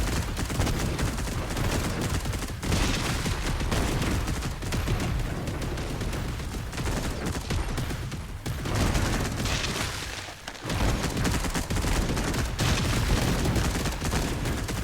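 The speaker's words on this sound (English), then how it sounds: "Dual rotary cannons and then twin missiles." Relentless rapid-fire gunfire from the game ZeroSpace, dense bursts of dual rotary cannon fire with booms layered in, loud and nearly continuous with one brief lull.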